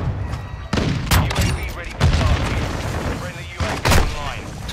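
Shotgun blasts in the video game Call of Duty: Modern Warfare II, several loud booming shots spaced irregularly amid other game gunfire and a voice talking over the action.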